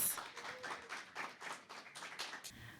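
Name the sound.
audience applause welcoming a competition team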